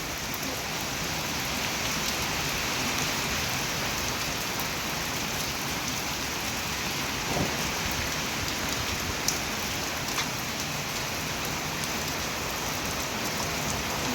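Steady heavy rain pours continuously, a dense hiss of drops drumming on surfaces close by, with no voices.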